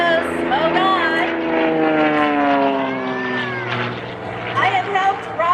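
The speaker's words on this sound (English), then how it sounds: "I have helped Rob work on this airplane" Propeller aerobatic airplane performing at an air show at Hemet-Ryan, its engine droning loudly and steadily with rising and falling pitch as it maneuvers, while people nearby talk over it.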